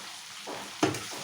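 Onions fry with salt in a pan over a high gas flame for chilli chicken gravy, giving a steady close sizzle with a brief stirring scrape near the end and no speech.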